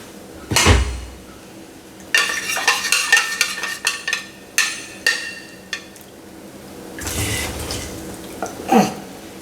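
Dye is stirred into gym chalk in a container on a stained table, with close, uneven bursts of scraping and clinking separated by quieter pauses.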